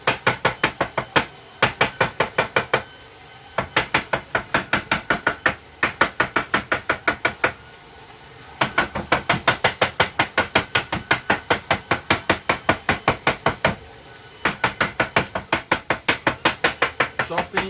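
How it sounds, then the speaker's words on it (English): Knife chopping ingredients for beans charros on a cutting board, a rapid steady run of sharp close knocks in several bursts separated by short pauses, with no talking over it. "Chopping, like this,"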